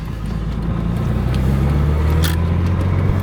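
Engine of a 1980 Porsche 911 SC Targa while driving on the road, a loud, steady low drone with a constant hum from inside the car and a brief faint click partway through.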